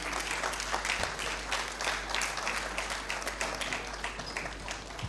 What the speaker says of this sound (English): I believe we can make the applause a bit louder for the Honorable Minister.